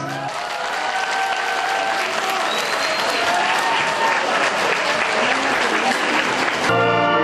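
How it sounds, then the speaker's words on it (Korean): An audience at an autumn evening concert gives a sustained, loud burst of applause after a children's pungmul folk percussion performance, the dense clapping continuous and close, with faint tonal sounds running beneath. "서툴지만 최선을 다하는 아이들의 연주에 쏟아지는 박수갈채"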